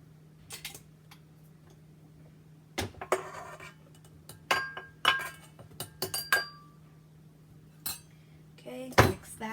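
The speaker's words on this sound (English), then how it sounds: "Now we are going to mix that in." Utensil clinking and scraping against a bowl while powdered sugar is mixed into chocolate frosting, heard as scattered light clinks and taps over a steady low hum, fairly faint and close.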